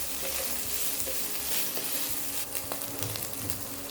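Boiled chicken, seasoned with salt and turmeric, is stir-fried in a pan for kadala kottu. A dense, continuous sizzle runs throughout, with scraping stirring strokes close by and no voices.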